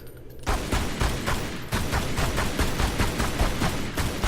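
Gunfire in Tomb Raider Anniversary rattles off in a fast, steady volley of repeated shots, loud and close, carrying on without pause after a short quiet start.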